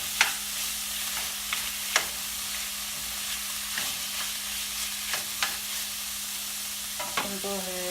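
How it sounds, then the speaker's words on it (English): Shrimp cutlet filling with turmeric powder sizzles steadily in a pan, with scattered scraping clicks of stirring throughout and a soft hum underneath. "let this saute for another 5"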